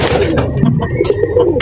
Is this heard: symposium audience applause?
no